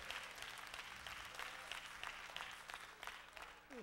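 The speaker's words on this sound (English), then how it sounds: "Give the Lord a hand clap of praise" A church congregation claps in praise during a worship service, a steady wash of many hands at some distance, fairly faint and even with occasional louder claps.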